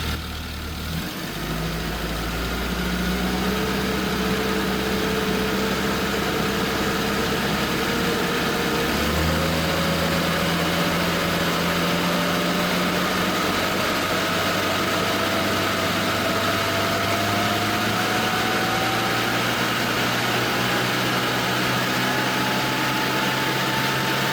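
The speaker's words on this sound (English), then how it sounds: "let me go ahead and redo that rev test and see where it's at the upper RPMs" A car engine with connected breathers starts at idle and then climbs in one long, steady rev to high RPM during a rev test. The sustained drone rises in pitch over about twenty seconds, close and loud, with no talking.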